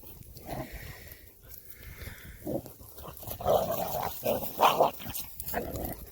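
A Cane Corso puppy growls and grumbles in short, rough bursts while playing outdoors with other dogs, close and moderately loud, with sniffs and snorts between the growls.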